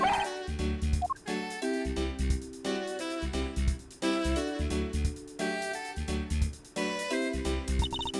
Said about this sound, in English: What a fitting name for a police dog that dashes out in front and attacks.